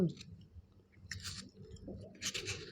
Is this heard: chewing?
yes